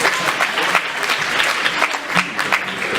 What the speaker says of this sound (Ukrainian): Ваши аплодисменты, молодежный камерный хор «Джакоза».